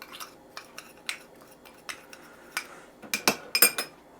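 A utensil clinks and scrapes against a bowl while seasoning with pepper is mixed, a series of light irregular taps that grow quicker and louder toward the end.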